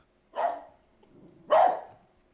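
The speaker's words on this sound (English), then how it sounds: "No, it's actually just a dog of some type." A dog barks twice, a loud single bark followed about a second later by a second, even stronger bark, with a faint whine or growl between them and no talking.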